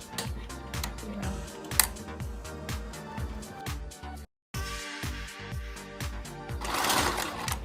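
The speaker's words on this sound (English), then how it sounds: "So I'll start sewing from the midpoint." A sewing machine stitches a shirt dress in a steady, rapid mechanical run, close by, that cuts out for a moment midway and then resumes, with no talking.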